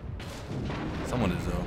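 Warship guns fire in World of Warships while a Japanese Aoba cruiser engages a target, heavy rumbling booms rolling together over about two seconds, loud and close with a dense low-end roar.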